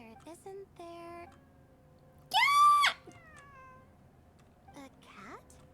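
A cat meows several times in a game scene, short tonal cries followed by one louder drawn-out wail and a final rising mew, with quiet background between calls and a person speaking faintly at times.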